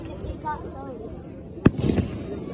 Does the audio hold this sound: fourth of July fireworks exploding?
yes